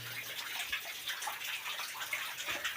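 Water flowing inside a cave, a continuous close gurgling trickle with small irregular splashes and drips echoing softly throughout.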